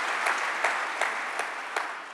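Church congregation at a Thursday morning conference service applauding, a moderate wash of clapping with a few sharper bursts, steady and alone for a couple of seconds.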